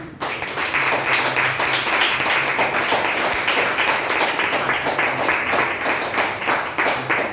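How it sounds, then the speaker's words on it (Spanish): A church congregation applauds continuously and briskly, a full, close wash of clapping that starts abruptly and holds evenly throughout. "Denle un aplauso al Señor."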